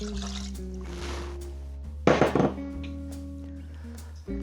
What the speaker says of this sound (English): We will then add 125 grams of water